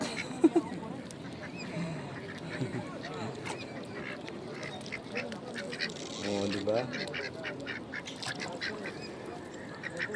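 Ducks quack faintly in the background while a person laughs and talks nearby.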